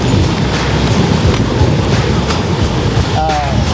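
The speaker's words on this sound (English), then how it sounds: "This rain, this storm, rain just took our day out." Heavy rain pours down in a thunderstorm on a day trip to Isla Mujeres, a loud, dense hiss with rumbling low booms and wind buffeting the microphone close by.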